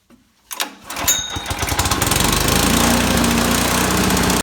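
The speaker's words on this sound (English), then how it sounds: "Nothing like starting an aerator in your garage" A Classen CA-18 lawn aerator's small gas engine starting in a garage: after a moment of quiet it catches with a few rough pops, then settles into a loud, steady, close-up mechanical running clatter.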